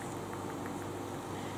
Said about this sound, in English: The fan is on because I am bloody melting in my kitchen